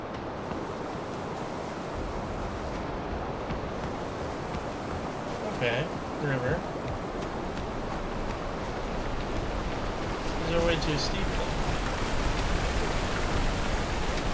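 Waterfall in the video game Far Cry Primal, a loud, steady rushing roar of falling water filling the whole clip, with faint brief game sounds on top.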